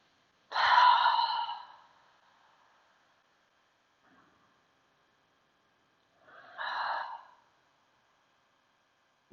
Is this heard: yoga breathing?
yes